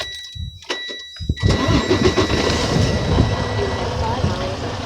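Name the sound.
truck engine starting up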